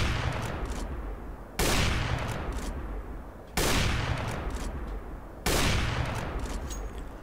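A weapon in CS:GO fires over and over through a wall: four loud bursts of gunfire, each a short string of rapid shots that fades before the next, with no voices.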